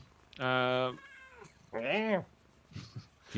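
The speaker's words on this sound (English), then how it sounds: "It's the cat. The cat. Meow." A cat meows twice, loud and close, the first call long and drawn out, the second shorter and rising, followed by faint softer sounds.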